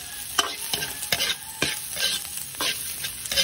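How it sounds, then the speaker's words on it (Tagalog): Garlic, onion and sliced chorizo de Bilbao sizzling and frying in a pan, with a utensil stirring and scraping in repeated strokes, close and moderately loud. "Ayan, gisa-gisa lang po natin."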